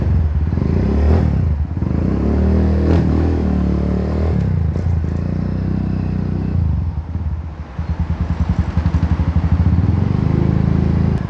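A Kawasaki W175 Scrambler motorcycle engine fires up on the electric starter and idles with a rough, rapid putter, then revs and pulls away, loud and close, with clattering mechanical noise throughout.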